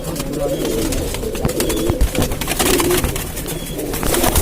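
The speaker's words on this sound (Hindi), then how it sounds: "तकरीबन 4 साल पुराना कबूतर" Pigeons coo at a long-kept home loft in Lucknow, close and fairly loud amid a busy, rustling background, while people talk nearby.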